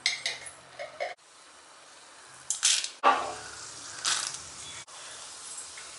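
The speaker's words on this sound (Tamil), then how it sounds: "கடுகு நல்லா பொரிஞ்சிடுச்சு." Mustard seeds, urad dal and chana dal sputter and crackle in hot sesame oil while turkey berries fry, as bursts of close sizzling pops separated by quieter gaps, with no voices.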